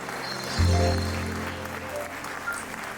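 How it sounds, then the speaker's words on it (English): Applause from guests at a wedding rehearsal dinner, a burst of clapping that starts sharply, swells, then fades into a steady patter under faint background murmur. "Let's give it another round of applause for Bhavana."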